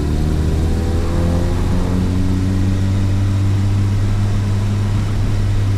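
A turbocharged Mitsubishi Mirage with a flash tune and lowered fuel pressure warms up at idle on a street, giving a loud, steady droning engine hum with a slight dip in pitch early on, close and without speech.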